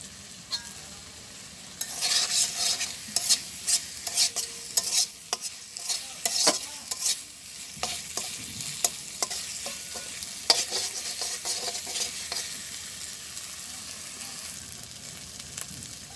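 Masala spices frying in oil while being stirred in a village kitchen, steady sizzling with repeated quick scraping and clinking strokes of a spoon against the pot.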